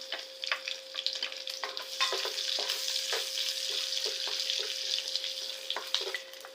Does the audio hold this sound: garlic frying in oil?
yes